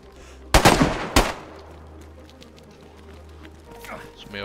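Two loud, close gunshots crack in DayZ on the Namalsk map, about half a second apart, each leaving a short echoing tail before quieter game ambience and faint distant noises follow.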